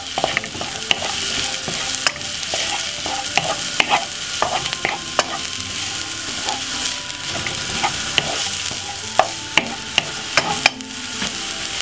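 A pan frying for chilli con carne, loud close sizzling with constant stirring, rapid scraping and clattering spoon strikes against the pan throughout.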